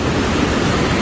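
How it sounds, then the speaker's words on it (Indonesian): Hot spring water gushes from its source at a flood-damaged spring site after a flash flood, a loud, steady, close rush of water with no voices. "Tuh sumber mata air panasnya keluar."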